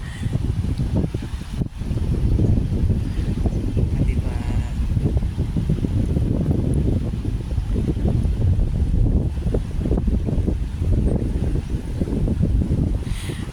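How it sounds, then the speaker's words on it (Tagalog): Strong, steady wind buffets the microphone on a beach at low tide on Bantayan Island, a loud continuous low roar with gusty surges and no talk. "Mahangin, malamig."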